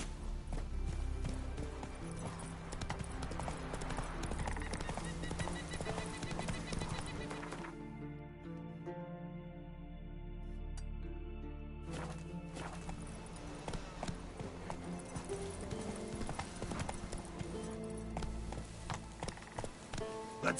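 Horse galloping in The Witcher 3, a steady run of hoofbeats under game music and ambience that thin out briefly mid-stretch, with a voice speaking over it.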